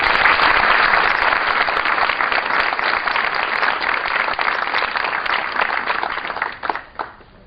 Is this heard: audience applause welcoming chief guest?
yes